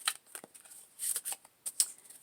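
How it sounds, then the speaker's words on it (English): Tarot cards are shuffled in short, crisp riffling bursts, several quick papery flutters separated by brief pauses, close and fairly quiet with no talking. "and I'm going to shuffle it."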